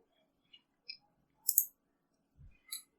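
A few sharp, quiet clicks of a computer mouse, spaced irregularly, with a soft low thump near the end, in an otherwise silent setting while navigating Windows settings for IIS.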